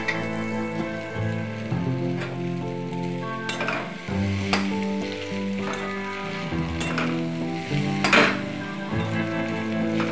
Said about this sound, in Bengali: পেঁয়াজ লঙ্কা ভাজা হয়ে গেলে এর সঙ্গেই এরপর আমাদের ভেজে রাখা আলু আর নুডলস দিয়ে দেব, দিয়ে ভালো করে মিশিয়ে দেব।